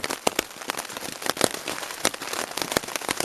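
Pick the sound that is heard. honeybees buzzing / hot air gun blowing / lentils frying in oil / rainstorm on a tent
rainstorm on a tent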